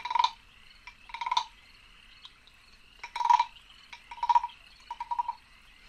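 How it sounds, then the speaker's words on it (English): A small tree frog gives repeated short, bright croaking bursts, six clustered pulses at uneven intervals, close and clear against a quiet, faintly humming background with no talk. "there's a little tree frog. He might chime in every now and then"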